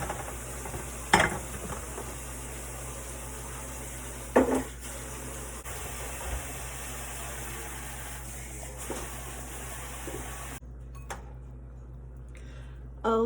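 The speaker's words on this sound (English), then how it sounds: "I've allowed the butter, garlic, and onions to simmer for a little bit over 10 minutes on medium heat" Butter, garlic and onions simmer in a pan on medium heat, a steady low sizzle broken by a few clinks and stirring knocks from a utensil, with the hiss cutting out near the end.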